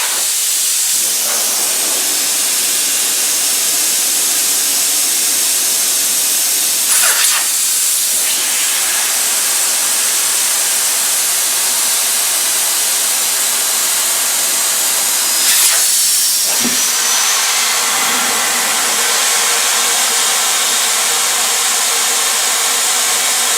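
Pressurised air rushing from car tire valves with the cores pulled out: a loud, continuous broadband hiss filling the whole stretch, with brief shifts and bumps as each valve is handled.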